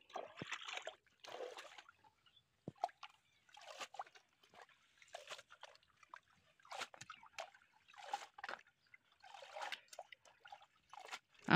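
Freshly picked coriander leaves are swished and rinsed in water, giving faint intermittent splashes, trickles and sloshes in short bursts with quiet gaps between, heard alone.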